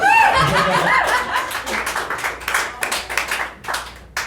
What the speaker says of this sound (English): Give it up for love, guys.